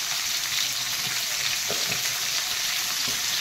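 Drumstick stalks fry in a pan with a loud, steady hiss and sizzle throughout, broken by a few soft stirring knocks close by, with no talk.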